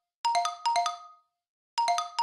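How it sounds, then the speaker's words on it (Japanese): A bright, chiming phone ringtone from the IDOLY PRIDE game story plays alone in short repeated melodic bursts, two phrases, a pause, then it starts again, clear and close. "あ、マネージャーから電話です。"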